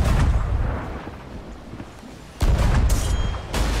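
Ship cannons firing in a Sea of Thieves naval fight, a loud booming blast followed by a second close report, rising out of rumbling ocean and game ambience.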